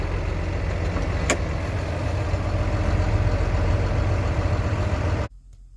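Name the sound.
idling semi-truck tractor engine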